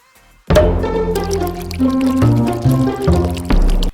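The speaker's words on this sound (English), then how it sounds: "All right, so I poured my sample." Sparkling rosé wine from North Coast pours steadily into a glass, a loud close stream with fizzy gurgling that shifts in pitch as the glass fills, then stops abruptly before a brief final splash.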